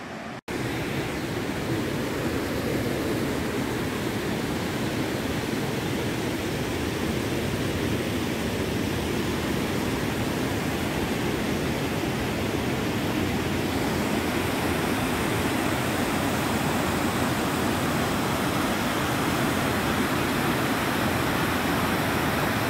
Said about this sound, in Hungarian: Megérkeztünk a vízeséshez, egy függőhídon vagyunk.